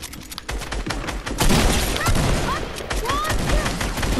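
Rapid, continuous gunfire from a video game match crackles loud and dense, bursts of automatic shots layered with pings and impacts over several seconds, while a voice speaks in the background.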